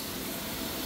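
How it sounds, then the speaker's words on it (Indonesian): A steady, even hiss of water mist sprays through the canopy park at Jewel Changi Airport in Singapore. It is continuous and broadband, with no talk over it. "Wah, dikasih uap air."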